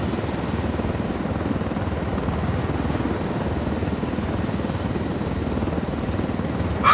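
Helicopter in flight in the video game Ghost Recon Wildlands: a steady, rumbling rotor beat with a rapid rhythmic chop that holds at a constant level, swelling briefly louder right at the end.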